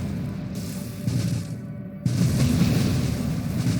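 Explosions in Nova Drift, several soft muffled booms overlapping in quick succession, low and fairly faint.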